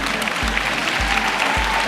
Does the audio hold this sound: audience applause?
yes